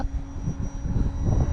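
FMS PA-18 Super Cub 1300mm RC plane flying in high wind, its small propeller motor buzzing steadily under heavy low gusting wind rumble, fairly close.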